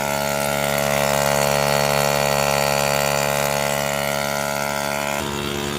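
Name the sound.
motorized power sprayer engine for spraying pesticide in a garden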